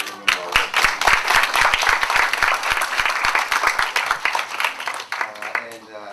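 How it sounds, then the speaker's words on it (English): An audience at a University of Iowa Tippie MBA graduation ceremony in Hong Kong gives a steady round of applause, dense clapping that holds loud throughout and tapers slightly at the end. "I think Mr. Leo deserves another round of applause for those wonderful"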